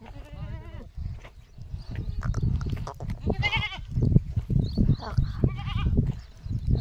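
Goats bleat repeatedly, wavering cries rising over a voice calling and talking, with farmyard bustle throughout.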